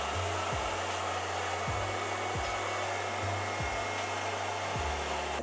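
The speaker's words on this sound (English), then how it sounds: "but I'm gonna just go in with my hairdryer." A hair dryer blows steadily on a synthetic wig, a constant broadband whoosh at moderate level with a low hum that dips and rises every second or so as the dryer moves.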